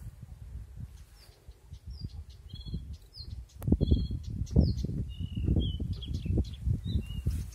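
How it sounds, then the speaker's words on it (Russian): Small birds sing in repeated high chirps and short whistled phrases over steady low rumbling background noise, with the chirping going on throughout and a louder, busier stretch in the second half. "Слышите, как птички поют?"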